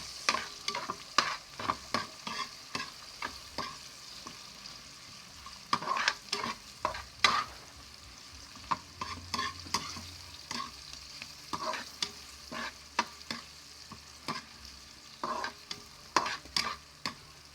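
Onions being stirred and sautéed in a pan, with repeated sharp scraping strokes of a utensil over a steady soft sizzle, close and fairly quiet, with no talking.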